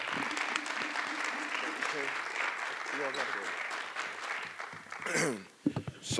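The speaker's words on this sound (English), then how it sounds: "So I'd like for you guys to give a round of applause to Mr. John Scott" Audience applause at a talk event, steady clapping for several seconds that thins out near the end as voices and cheers rise over it.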